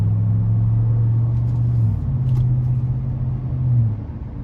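A 2015 GMC Sierra 1500 SLE pickup with the 5.3 engine and about 65,000 miles drives steadily, a low, even engine and road rumble filling the cabin with a slight pitch shift midway and no talk.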